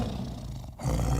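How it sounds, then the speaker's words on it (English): A tiger roars in a short, loud, rumbling burst that swells and then fades, heard alone with no talk. "tiger"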